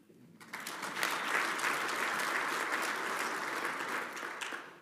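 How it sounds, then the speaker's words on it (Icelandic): Audience applause at the KSÍ extraordinary football association congress in 2021: a crowd of steady, fairly distant clapping that swells quickly, holds for several seconds and then tapers off. "þannig að við skulum klappa fyrir því."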